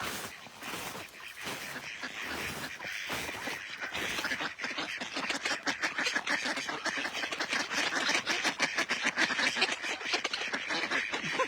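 A crowd of ducks on a snowy pond at Sanquhar, Forres, in January, with busy overlapping quacks that swell into a dense, rapid chatter, fairly near and moderately loud, no talk.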